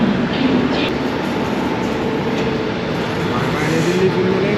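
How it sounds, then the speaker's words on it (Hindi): Bilaspur Rajdhani Express leaving New Delhi with a WAP-7 locomotive from Howrah: a loud, continuous rumble of the moving train heard from inside, steady throughout, with a faint voice underneath. "हमारी ट्रेन भी चल पड़ी है दोस्तों"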